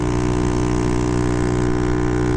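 Honda Ruckus scooter with 12g rollers, ridden at full throttle around 50 mph and 7200 RPM against the wind, a loud, steady, high-revving engine drone with strong tonal harmonics held constant throughout, no speech.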